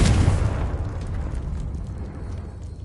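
A Confringo blast spell in Hogwarts Legacy erupts as one loud, close explosion at the start, then fades into a rumbling, crackling decay over a few seconds.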